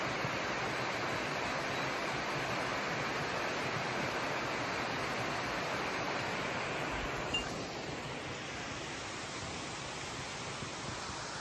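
Hot spring waterfall in a national park, a constant broadband rushing of falling water heard close and steady throughout, easing slightly toward the end.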